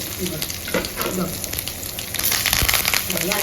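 Onion and curry leaves hit hot oil in a home kitchen, setting off a loud, steady crackling sizzle that holds for the whole stretch, with a voice faintly present in the background.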